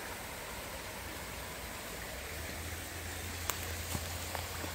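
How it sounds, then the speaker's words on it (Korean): Waterfall on a forested campground property in Pocheon, Gyeonggi, pouring steadily as a dense, even rush of water, continuous and moderately distant, with no voices. "물이 내려가면 운하폭포예요."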